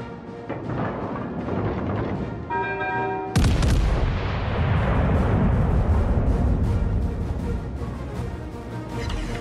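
Heavy ship artillery in World of Warships: Legends, a dense rumbling barrage of booming salvos with a massive loud blast partway through, followed by a long rolling roar and scattered further shots.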